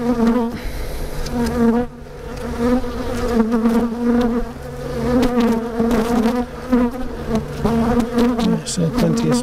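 Honey bees buzz during the first hive inspection of a UK nucleus colony: a dense, continuous drone, close and loud throughout, with no voices.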